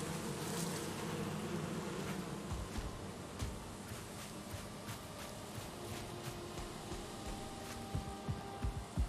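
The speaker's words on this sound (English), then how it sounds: "Hello, bees." Bees buzz in the Viking survival game Valheim, a steady close hum over ambient background noise with faint clicks, with no talking.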